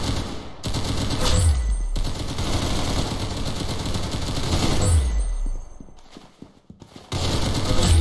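Rapid bursts of automatic gunfire in a video game, loud and dense, with two heavy low thumps among the shots and a short quieter lull near the end before firing resumes.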